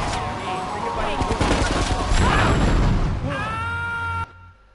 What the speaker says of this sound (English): Were they supposed to be shooting at me?